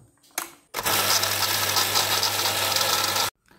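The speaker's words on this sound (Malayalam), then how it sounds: "ഇനി മോട്ടോർ ഒന്ന് ഓൺ ചെയ്ത് നോക്കാട്ടോ" A borewell water pump motor, just freed after being stuck, switches on abruptly after a short click and runs with a loud, steady hum and rattle for about two and a half seconds before stopping.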